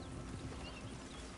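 Horse hooves clip-clop in Red Dead Redemption 2, a brief run of soft, steady hoofbeats under a busy background wash of game ambience.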